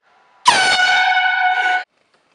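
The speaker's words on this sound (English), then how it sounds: "we used a blowhorn to distract people while they attempted to perform an athletic feat" A handheld blowhorn air horn lets out one loud, sustained blast of about a second and a half, used to distract athletes mid-attempt. The blast starts abruptly, holds a steady brassy tone and cuts off cleanly, with no talking.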